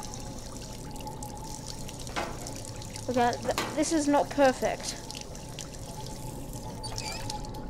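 Water pours in the Job Simulator VR game, a short burst of splashing and trickling lasting about two seconds, set against a steady background hum, with someone talking just before it.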